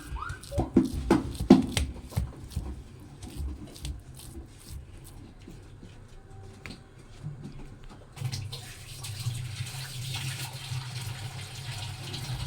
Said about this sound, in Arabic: يعني تبليها كده في ميه عشان تقدري تساوي الصينيه من فوق